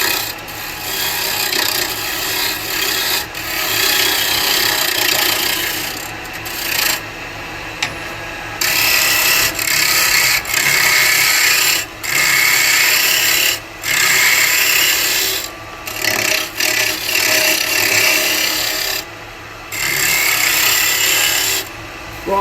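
An elm burr bowl spins on a wood lathe while a carbide chisel cuts it, a loud continuous scraping, rasping roar broken by short pauses as the tool lifts away.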